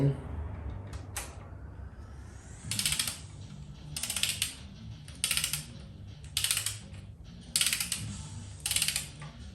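A torque wrench ratchets in repeated bursts of rapid clicking while tightening the cylinder head bolts on a 1986 Toyota MR2, six short close-up clusters with quiet pauses between them.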